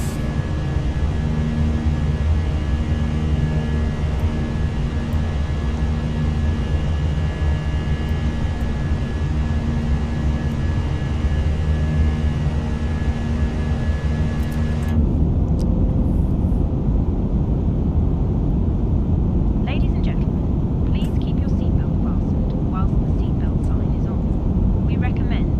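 Airliner climbing out of Queenstown through a circling departure between mountains, a steady loud cabin drone of engines and rushing air that changes character partway through, with no talk over it.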